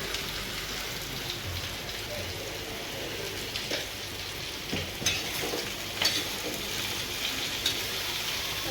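Raw banana curry fries on a low flame, giving a constant rain-like sizzle with occasional spoon clinks and stirring scrapes, close and steady throughout.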